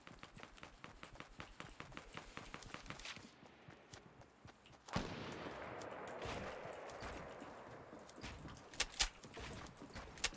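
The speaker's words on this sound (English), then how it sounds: "Shots east." Fortnite gunfire crackles in rapid trains of sharp shots over running footsteps, fairly faint at first, then louder with denser bursts in the second half.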